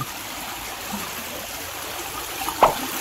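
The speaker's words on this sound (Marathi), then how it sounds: "पाणी" A small stream in the rainy season where crabs are hunted, with a steady, soft wash of flowing water and one brief splash near the end.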